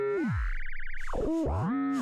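A synthesizer using single-sample feedback frequency modulation gives a wacky, warbling electronic tone whose pitch swoops down, vibrates rapidly, then dives and rises again, loud and alone for about two seconds.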